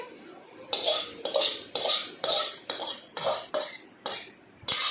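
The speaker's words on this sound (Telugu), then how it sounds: "ఇది కూడా మెత్తగా దంచాలండి." Tamarind, garlic and tomato pounded in a stone mortar for green chili roti chutney, a run of about eight sharp rhythmic scraping pounds, loud and close, with no talk.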